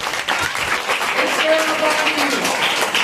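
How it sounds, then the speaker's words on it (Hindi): An audience applauds after a magic trick where water is held on a sieve, a loud continuous spatter of clapping with voices under it. "तालियां करिए।"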